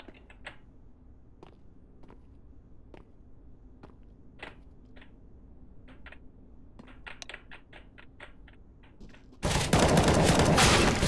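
Gunfire in Counter-Strike: Global Offensive, heard as a scattered series of sharp, separate shots at an irregular rhythm over a low game background, ending in a loud, dense burst of noise.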